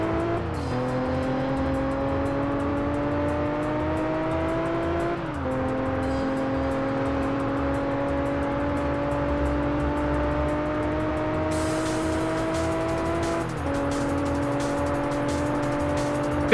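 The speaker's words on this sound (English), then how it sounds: "I feel like this car does have pretty slow acceleration compared to like most other A-class cars." A car engine in the PS2 racing game Test Drive Unlimited holds a steady, loud drone as the car races, with the pitch climbing through gears and dropping at each shift, continuous throughout without talk.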